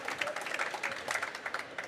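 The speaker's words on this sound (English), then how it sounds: "this is your applause." An audience at a live corporate panel on the circular economy claps briefly, a dense patter of many hands, close and steady, with voices mixed in.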